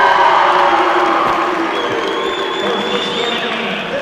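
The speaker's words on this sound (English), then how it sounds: "Big crowd here for Shelby Valley." Fans at a state high school basketball tournament cheer and applaud in a gym during lineup introductions for Shelby Valley, a loud, sustained roar of crowd noise with voices over it.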